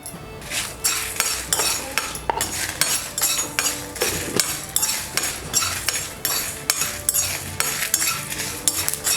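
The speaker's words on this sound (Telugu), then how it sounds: "1 స్పూన్ నువ్వులు, ఒక 3 ఎండుమిర్చి వేసి దోరగా వేయించుకోవాలి" Sesame seeds and three dried red chillies dry roasting in a pan with no oil, a spoon stirring and scraping in a steady rhythm of repeated clinks and rustles, close and moderately loud with no talking.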